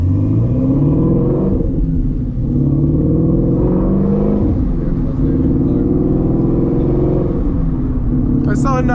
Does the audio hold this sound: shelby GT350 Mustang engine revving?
yes